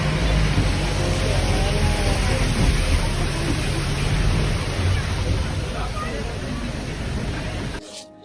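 Heavy rain pours in the hills of Munnar on the way up toward Eravikulam, a dense, loud, continuous hiss that holds steady before cutting off abruptly at the end.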